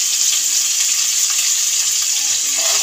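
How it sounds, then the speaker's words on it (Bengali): Cauliflower fries in a pan, a loud steady hiss of sizzling oil held evenly throughout, close by, with no talk. "ফুলকপিটা দিলাম, একটু নাড়িয়ে নেব।"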